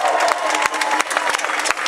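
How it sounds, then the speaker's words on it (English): A crowd at an outdoor gay rights protest at a courthouse in Fort Worth, Texas claps steadily, a dense wash of applause with a few sharper individual claps standing out. "Once again, some applause for Mr. Rick Vanderslice."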